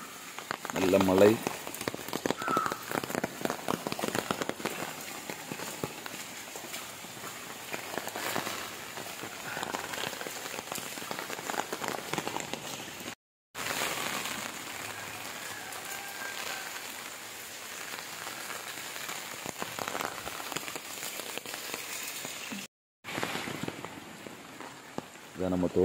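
Heavy rain pours outdoors near a grove, a dense steady patter of drops on surfaces that runs throughout with two short dropouts, while voices speak under the downpour.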